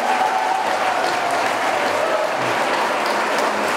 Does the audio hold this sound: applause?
yes